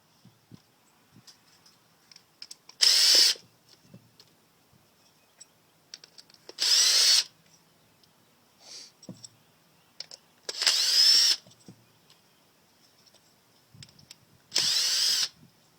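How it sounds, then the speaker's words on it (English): A power screwdriver backs Phillips screws out of a Yamaha 4x4 servo assembly in four short, loud whirring bursts separated by quiet pauses with small clicks and handling noises. "As you can see, it has the Phillips. You don't need any tamper-proof bits. Just take these screws out."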